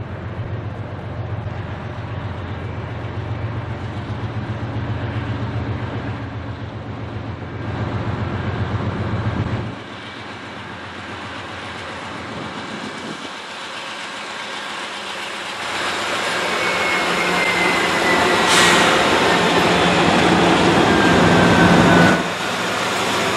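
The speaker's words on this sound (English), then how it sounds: "we then saw Norfolk Southern 2604 on the southbound freight train" Norfolk Southern 2604 southbound freight train passing, a steady loud rumble and rolling rail noise that swells toward the end, with a brief high screech near the close.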